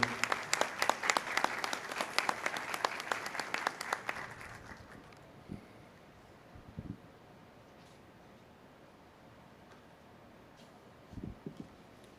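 Conference audience applauding at a Brazilian asphalt engineering event, a dense burst of clapping for about four seconds that quickly fades, leaving quiet room tone with a few scattered thumps.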